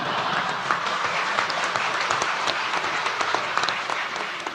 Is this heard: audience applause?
yes